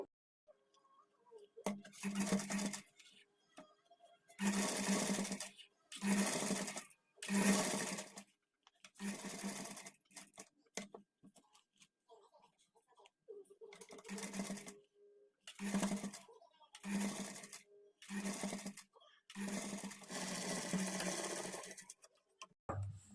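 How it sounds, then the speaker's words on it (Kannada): A sewing machine stitches piping onto the back neck of a patchwork blouse in repeated bursts, starting and stopping with brief pauses between runs, close and loud with no talking. "ಸೀದಾ ಸೈಡ್ಗೆ ತಿರುಗಿಸ್ಕೊಂಡು ಪೈಪಿಂಗನ್ನು ಸ್ಟಿಚ್ ಮಾಡಿಕೊಳ್ಬೇಕು"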